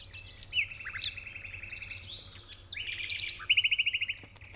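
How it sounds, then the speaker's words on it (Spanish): Alpine birds in the high mountains of Ordesa and Monte Perdido, such as yellow-billed and red-billed choughs, alpine accentors and wallcreepers, call with clear overlapping chirps, whistled phrases and a quick rapid trill near the end. "las chovas piquigualdas y piquirrojas, los acentores alpinos, los treparriscos y otras aves altimontanas no están solas"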